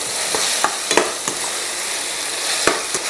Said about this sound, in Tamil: இந்த தக்காளியை சேர்த்துட்டுலாம் சேர்த்துட்டு அதையும் நல்லா வதக்கிக்கோங்க